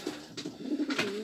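A Polish show homing pigeon cooing close by, a few soft throaty coos in quick succession, alone without talk.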